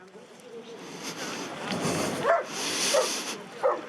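Dog barks at an outdoor seaside festival in Concarneau, with three short sharp barks spaced about a second apart over busy crowd noise and background chatter.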